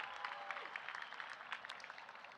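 Commencement audience applauding at CSUN, a continuous wash of many hands clapping at moderate volume, steady and fairly distant, with faint vocal cheering mixed into the crowd noise.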